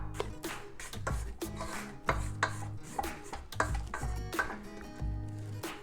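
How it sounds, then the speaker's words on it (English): A mixing bowl and paddle for walnut chocolate chip cookie dough being scraped, with a run of close, sharp knocks and scrapes at an irregular rhythm over a low mixer-like hum, and no talking. "let me scrape the bowl and the paddle"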